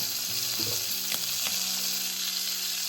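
A deer testicle sizzles and fries steadily in a hot pan, with a few brief clinks and scrapes from placing it face down.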